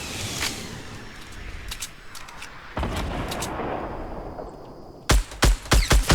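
Gunfire in the video game Fortnite Battle Royale: sharp, loud shots, one early and a cluster near the middle, then a rapid burst of five or six close cracks at the end over a steady noisy background.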